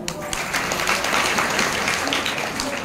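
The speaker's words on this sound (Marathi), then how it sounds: "महाराजांसाठी जोरदार टाळ्या" An audience at a Krishna festival kirtan gathering applauds loudly and continuously, a dense wash of clapping that fills the whole stretch.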